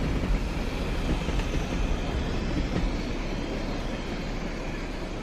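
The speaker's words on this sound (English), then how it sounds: "You have been watching the Class 40 on a petrochemical train" An English Electric Class 40 diesel locomotive hauls a petrochemical train, producing a loud, continuous rumbling roar of engine and rolling wagons that holds steady throughout.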